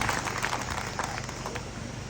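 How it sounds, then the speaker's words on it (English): A crowd at an outdoor road-construction launch in Pader District, Uganda, claps for itself, giving a brief, even burst of many hands with no voices standing out. "Clap for yourselves."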